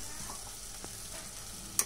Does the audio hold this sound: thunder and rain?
no